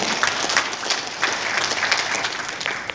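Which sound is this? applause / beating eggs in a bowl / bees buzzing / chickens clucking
applause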